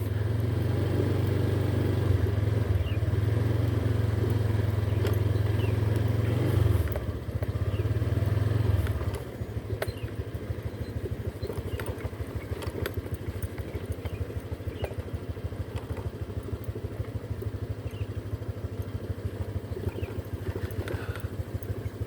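A motorcycle rides along a mountain road under construction, cut into cliffs two to three metres high where concrete is being poured; its engine is loud and steady throughout, with a louder low drone early on easing into a rougher, pulsing rumble.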